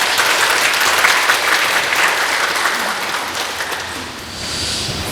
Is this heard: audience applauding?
yes